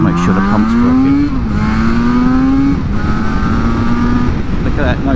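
A rebuilt Yamaha LC two-stroke motorcycle revs hard while riding on a road, its engine note rising and shifting pitch through gear changes, loud and close throughout.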